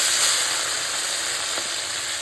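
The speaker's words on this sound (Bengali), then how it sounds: "ওই বেগুন ভাজা তেলেই আমি এই মাছগুলো একটু ভেজে নেবো।" Fish sizzles in hot oil left from frying eggplant, a steady close crackling hiss that holds at an even level throughout, with no talking.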